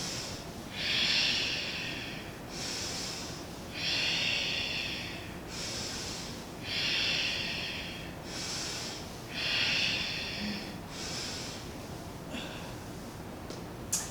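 Rhythmic breathing during a kundalini yoga class, with about six strong, even breaths alternating forceful exhales and inhales through the nose, close and clear with no talking, speeding up slightly at the end.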